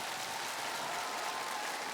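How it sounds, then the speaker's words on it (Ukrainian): Even, sustained applause from a concert crowd at a charity tour show in Kyiv, a dense wash of clapping with no voices on top. "Давайте зустрінемо оплесками!"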